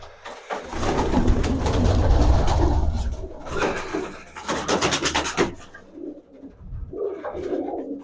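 Pigeons coo softly in a village dovecote, with rustling, scraping and wing movement close by and no talk.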